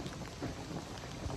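Heavy rain pours during a thunderstorm outdoors on a hillside, a dense continuous hiss with a low rumbling undertone, steady and enveloping with no voices.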